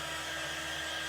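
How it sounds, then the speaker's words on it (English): A blow dryer runs steadily to dry paint on a handmade farmhouse-style wooden riser, a constant close whoosh with no voices over it. "But you can also use a blow dryer"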